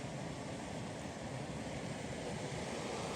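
A steady, dense rush of a waterfall in Killarney along the La Cloche Silhouette trail, constant and broadband with no breaks, heard at moderate distance.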